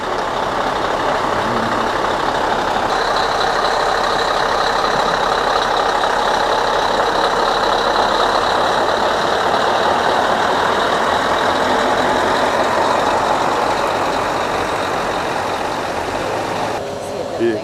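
A loud, steady engine rumble drones continuously, like a heavy truck idling nearby, with a faint high whine above it.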